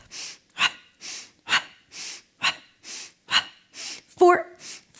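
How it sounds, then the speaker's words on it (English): Rhythmic, forceful breaths pumped in and out about every half second during an ab and deep-core exercise, each one a sharp, close burst with a brief voiced catch near the end. "Pumping the breath."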